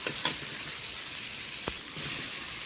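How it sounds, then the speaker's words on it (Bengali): Prawns sizzle and fry in a pan with onion and tomato and are stirred, a steady hissing crackle with a few faint scraping knocks, and nobody talks. "চিংড়ি মাছটা দিয়ে দিয়েছি। এবার এই পেঁয়াজ টমেটোর সাথে ভালো করে চিংড়ি মাছটা নেড়ে নেব।"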